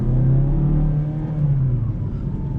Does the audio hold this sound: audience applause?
no